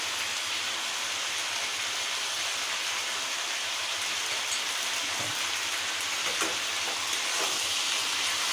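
Chicken sautés in oil in a pan for Bengali chicken kosa, making a steady, dense sizzle that carries on close and even throughout, with no talking.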